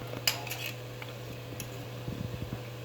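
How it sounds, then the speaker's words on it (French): Bananas being turned over in a pan of caramel for bananes flambées, with a few light clinks and scrapes of utensil against metal pan, close and faint over a steady low kitchen hum. "Je retourne mes fruits"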